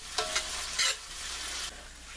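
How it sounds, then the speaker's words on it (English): Black fungus frying in butter gives a steady close sizzle, with a few brief scraping stirs near the start and middle before the hiss settles to a softer crackle. "Get it all nice and fried in the butter"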